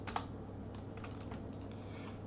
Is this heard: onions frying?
no